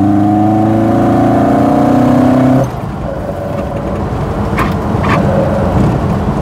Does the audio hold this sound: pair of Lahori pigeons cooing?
no